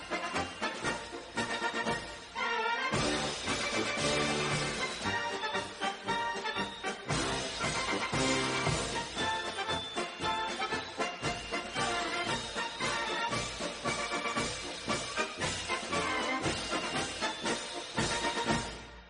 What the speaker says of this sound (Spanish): incluso llegó a tener su propia marcha militar